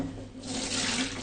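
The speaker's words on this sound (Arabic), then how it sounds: "وبعدين اغسل بقية المواعين" Dishes washed at a kitchen sink under a running tap, a steady close-up rush of water that grows fuller and splashier as the stream hits the dishes.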